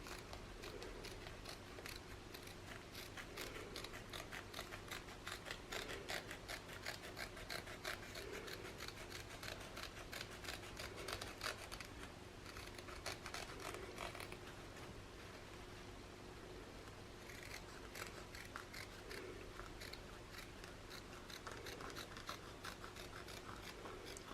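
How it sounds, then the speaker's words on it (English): Scissors trim the edges of a finished cross-stitch sampler, a faint, steady rasping with rapid, regular snipping strokes that continue without a break. "Then I'm just going to trim off the edges."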